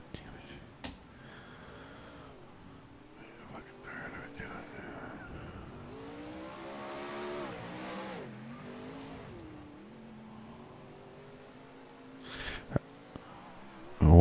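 A wingless sprint car laps the Cedar Lake dirt track, its engine rising and falling as it revs through the turns, with a commentator talking over it and a couple of sharp knocks near the end.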